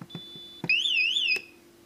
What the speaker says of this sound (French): dès que je vais frapper un petit peu trop fort dessus, elle va exploser